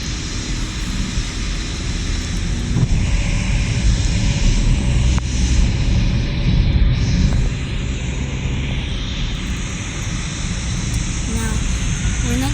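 A Turkish Airlines 737 in the PTFS flight simulator game gives off a steady, broadband engine roar that holds at a constant level throughout, with a voice faintly present underneath.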